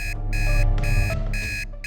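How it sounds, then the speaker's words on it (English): An alarm clock rings in rapid repeated electronic beeps, three loud bursts with short gaps between them, close and alone with no voices. "The alarm clock woke me up at 7 a.m. like it does every day."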